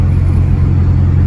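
A Dodge Challenger Scat Pack engine holds a loud, steady low rumble for the whole moment, droning close by with no break and no talk over it.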